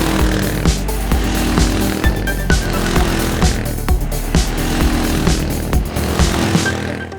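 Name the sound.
Kawasaki KLR650 motorcycle engine while riding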